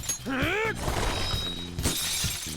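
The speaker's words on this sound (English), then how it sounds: "An enemy's frozen! Let's shatter it in one strike!" A frozen enemy shatters in the video game Persona 5 Royal, with a loud crystalline burst rising amid dense game effects and a voiced character cry, then fading into lingering sparkling tones over music.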